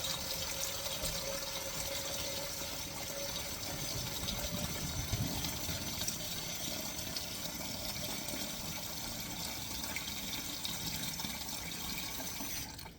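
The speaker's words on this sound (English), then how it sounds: "I've got a container and I'm going to be putting cold water into it." Cold water pours steadily into a container for tomatoes being prepared in a kitchen, a constant broadband rush that stays even and close throughout, with no talking.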